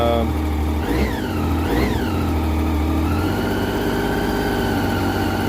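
A 2012 Triumph Street Triple 675 R idles up close and loud with a steady rumble, its revs surging up and dropping back twice on their own before settling into an even idle.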